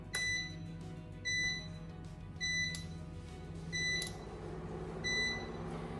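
A kitchen stove being switched on gives five short high electronic beeps at roughly one-second intervals, quiet and close, over a low steady background hum.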